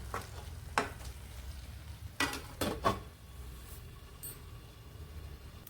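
Tomato fenugreek chutney sizzles softly in a pan, with a few sharp scraping stirs of a spoon against the metal standing out over a low steady cooking hiss, close by and without talk.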